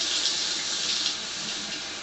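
Water runs steadily from a water ionizer machine, a continuous hiss of flow with no talk over it.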